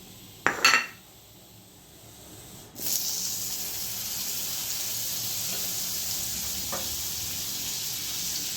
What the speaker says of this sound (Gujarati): જો આર્યું આ માખણ મૂકું છું વઘારમાં.